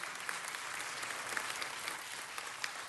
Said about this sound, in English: Mr. Krekorian, give him a hand and his staff for organizing this alongside our first